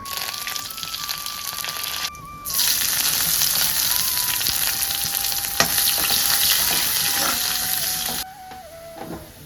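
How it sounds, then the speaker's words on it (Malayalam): Dry red chilies, curry leaves and shallots tempering in hot coconut oil for a stingray curry, a loud, steady close-up sizzle and crackle that briefly drops away twice, with no talking. "എണ്ണ ചൂടായി വന്നപ്പോൾ കടുക് പൊട്ടിച്ച് ഇതിലേക്ക് നമ്മൾ വറ്റൽമുളക് വേപ്പില ചുവന്നുള്ളി അതായത് കുഞ്ഞുള്ളി"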